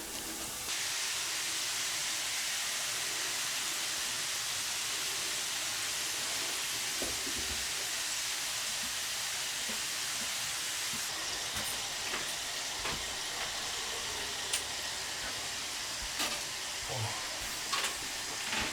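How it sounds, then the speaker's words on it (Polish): A constant bright hiss and sizzle of faworki pastry dough frying in hot oil, with small pops and crackles scattered throughout. "Faworki smażymy z jednej i drugiej strony na złoto. Olej musi być nagrzany."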